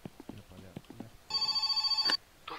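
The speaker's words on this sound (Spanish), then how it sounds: "Y otra llamada de teléfono." A telephone in My Summer Car rings once with a bright, steady electronic trill for under a second, following a few short spoken sounds and ending abruptly.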